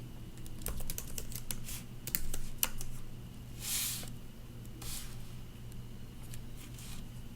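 Typing on a computer keyboard while writing Python code, a steady patter of clicky keystrokes with brief pauses, close and moderately loud over a low background hum.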